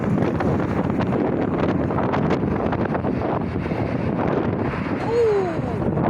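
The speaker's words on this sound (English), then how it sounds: "That was an extreme gust. My microphone nearly went flying." Strong wind gusts buffet a microphone outdoors at Dublin Airport during plane spotting, producing a loud, continuous, roaring rumble that swells slightly near the end, with a faint high whine briefly rising above it.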